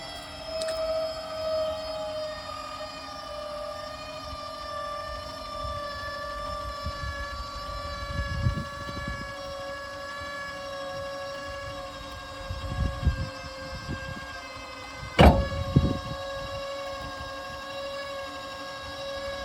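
An OutfitR PoleStar 5K electric trailer jack motor runs with a steady, whining, tonal drone for the whole stretch, punctuated by a few low thumps and clunks near the end as the load shifts off a truck.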